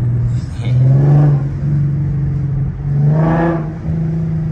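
Infiniti Q50 with new intakes revving hard twice while driving, each rise climbing to a loud rasping whir and dropping back to a steady engine drone, close and prominent, with no talk over it.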